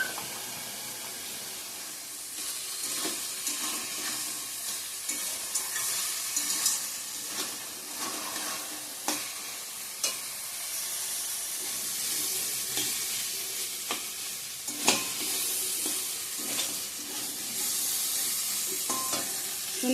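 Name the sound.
spice masala with turmeric frying and stirred in oil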